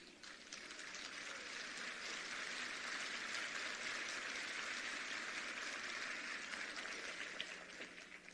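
Steady audience applause at a motivational lecture, a continuous dense patter of many hands at even level for the whole stretch, somewhat distant and soft.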